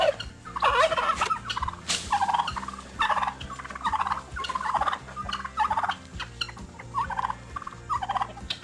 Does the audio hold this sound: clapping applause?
no